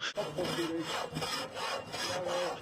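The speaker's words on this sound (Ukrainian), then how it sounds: "Пилка в його руках рухалася впевнено" A hand saw cuts through wood in a carpentry workshop, steady rasping back-and-forth strokes in a regular rhythm, close and clear with no talk.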